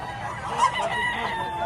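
A rooster calls briefly amid the steady background bustle of the Padre Garcia livestock auction market.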